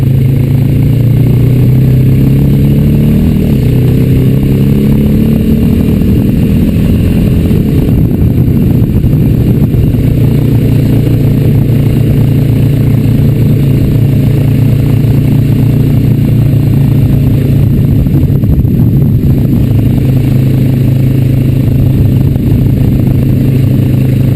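A Honda Rancher 420 ATV engine drones loud and steady as it rides along a trail, its mid-range hum constant with clattering undertones and no talk over it.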